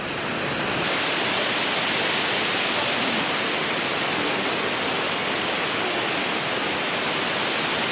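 Shirahige waterfall near Biei, Hokkaido, a loud, dense, unbroken roar of falling water that fills the whole stretch evenly with no voices over it.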